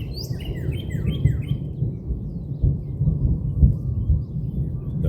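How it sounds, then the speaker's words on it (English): Low, rolling thunder rumbles across a golf course, a loud continuous deep roar with swelling peaks, while birds chirp high and clear through the first second and a half. "The big ass thunder."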